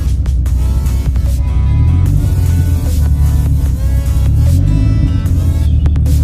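An 800HP Dodge Viper with a manual gearbox pulls away as the clutch comes up under gas, its engine droning loud and close with rising, wavering harmonics through the whole stretch.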